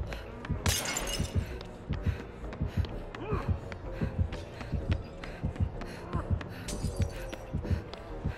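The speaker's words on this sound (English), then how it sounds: "It sounded like the glass was landing next to me" Glass shattering in the video game Dead by Daylight: a sharp breaking crash near the start and another around six seconds. Both cut through a steady, rhythmic throbbing game score that pulses beneath them.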